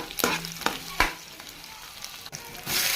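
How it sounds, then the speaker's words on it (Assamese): Chopped onion goes into hot oil in a home kitchen and sizzles right away, with a few sharp clatters of stirring over a steady frying hiss that grows fuller near the end; no one speaks. "তেলখিনি গৰম হ'লত মই পিঁয়াজ দি লৈছোঁ"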